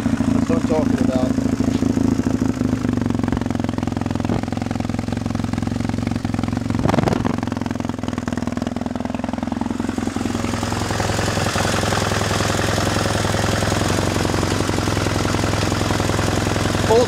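A vehicle engine fitted with a new 8-pound system, replacing a 29-pound one, runs loud and close throughout, rising and surging mid-way as it is revved.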